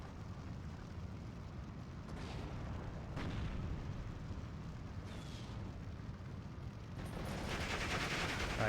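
81mm mortar rounds landing in the WWII video game Steel Division 2, with several distant, muffled impacts spread over a constant low rumble of battle noise.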